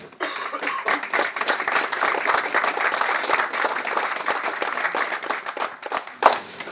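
An outdoor crowd applauds at a groundbreaking ceremony for a new residence hall, a dense, sustained patter of many hands that holds steady, then tapers near the end.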